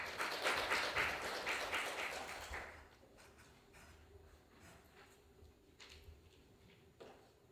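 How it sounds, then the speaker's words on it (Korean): A conference audience at a green transport transition forum applauds to welcome a speaker; the clapping is moderately loud for under three seconds, then drops away to quiet room tone with a few faint taps. "박수로 모시겠습니다."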